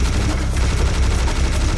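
A machine gun fires in Serious Sam HD on Xbox 360: a dense, continuous stream of rapid gunfire, loud and close, holding steady throughout with no pause.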